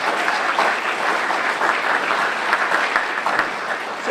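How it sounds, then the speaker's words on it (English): Steady, dense applause from an audience at a political talk, sustained clapping with no break. "Give them a round of applause,"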